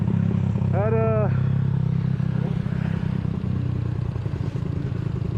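Motorcycle engine idling close up on a touring ride to Dieng, the bike unridden for a year, a steady low rumble with some clatter and a short voiced sound over it.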